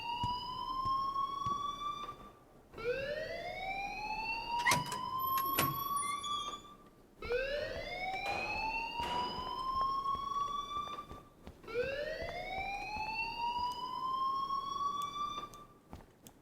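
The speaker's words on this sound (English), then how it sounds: "please turn off that alarm since that's your job" A school fire alarm in Life is Strange sounds in four long rising-and-falling wails separated by brief gaps, loud and piercing, with a few faint clanks between cycles.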